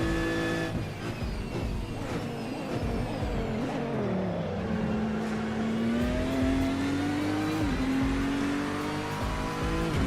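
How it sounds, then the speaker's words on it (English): A V8 race car in Assetto Corsa roars past, its engine revving hard and climbing through gears with a loud, sustained growl and shifting pitch, no talk over it. "I could go past that V8 all day."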